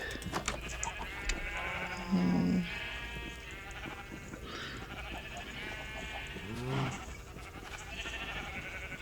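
A single synthetic-sounding sheep bleat from Minecraft stands out briefly, followed by another short bleat, over a steady background of game music and ambient tones.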